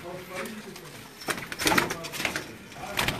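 Sialkoti breed pigeons coo softly in a faint, low murmur, with people talking nearby and some clattering knocks over the top.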